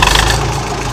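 A Massey Ferguson 130 tractor's engine running at a steady, loud low rumble just after starting, close by and alone.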